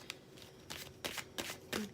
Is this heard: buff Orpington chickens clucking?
no